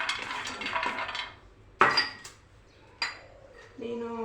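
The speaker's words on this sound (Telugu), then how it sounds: "నేను బాదం అండ్ కాజు 2 కలిపి డ్రై రోస్ట్ చేస్తున్నానండి" Almonds and cashews dry roasted together in a pan, a rattling stir of nuts against metal followed by a few sharp utensil clanks, close and distinct.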